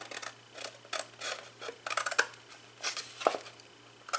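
Scissors snipping through a paper gift box template, a string of short crisp cuts in uneven rhythm, close and fairly clear with no talking.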